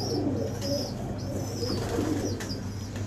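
Pigeons coo close by in a few soft, repeated throaty phrases, with a low background hum and no voices over them.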